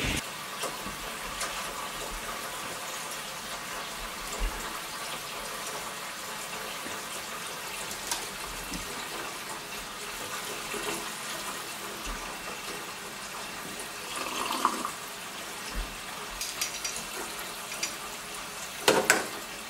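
Cold water running into a container in a home kitchen while a chicken is boiled for soup, a steady broadband rush continuing throughout at a moderate level with a few small clinks and bumps near the end.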